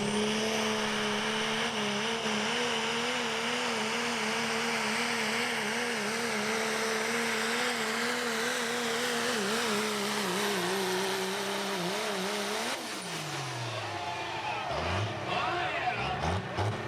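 A Hot Rod Diesel four-wheel-drive truck makes its winning pull at a truck pull event in Fishersville, Virginia: a loud, sustained diesel roar holds steady for most of the run, then the engine winds down and revs in short bursts near the end.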